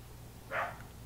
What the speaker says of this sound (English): My neighbor's dogs.